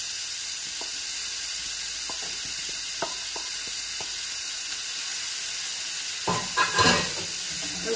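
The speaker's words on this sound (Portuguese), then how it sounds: "Agora mexe com cuidado para não desfazer muito o atum." Tuna and leeks in a pan, a constant loud sizzle with light taps of a utensil, then a louder scraping stir near the end.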